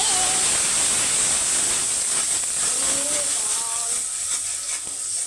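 A blended paste of onion, garlic and green chili sizzles in a hot pan, giving a continuous, loud hissing fry that holds steady throughout.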